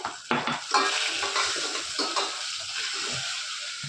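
Chopped tomatoes sizzle and fry in a hot pan while a spoon stirs and scrapes against the metal, with bright crackling spitting and a few clanks near the start.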